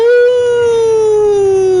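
A human wrestler imitates a wolf with one long, loud, steady howl that glides slowly downward in pitch for nearly two seconds, close to the microphone, with faint crowd noise underneath.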